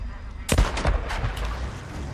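Gunfire in the video game Days Gone, a couple of sharp shots with echoing tails around the first second, then quieter ambient game noise.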